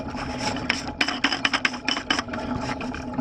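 A plastic cleaning attachment being screwed by hand onto a Pentair iChlor salt cell, giving close, quiet scraping and rasping threads broken by a series of short clicks and taps.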